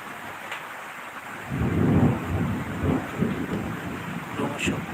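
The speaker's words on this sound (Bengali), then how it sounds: "মেঘের গর্জন" A low rumble of thunder rolls in over steady rain, swelling after a quiet start and lingering as a distant growl.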